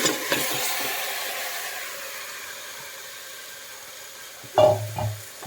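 Mango pieces dropped into fried onions in a pan give a hissing sizzle that fades slowly, then a brief louder burst of stirring and clatter near the end, no talking.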